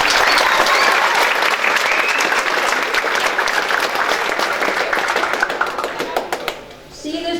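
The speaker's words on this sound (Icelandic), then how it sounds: "Gefum við þeim gott klapp fyrir það." Loud, dense applause from a school audience at a lower-secondary annual festival, sustained clapping filling the hall before thinning and fading near the end.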